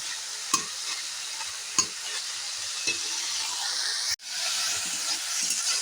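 Bottle gourd greens sizzle in a hot pan while being stirred, a steady frying hiss broken by soft scraping stirs and a sudden short pause before the sizzling resumes.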